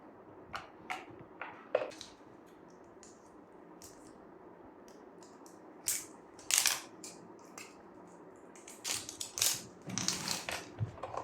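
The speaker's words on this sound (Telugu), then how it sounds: "బ్యాటరీస్ కూడా ఇచ్చారు కాబట్టి బ్యాటరీస్ కూడా అద్దాం ఫస్ట్" Batteries get pressed into a plastic digital weighing scale, heard as scattered sharp clicks and snaps with rustling, close and quiet between bursts, with no speech.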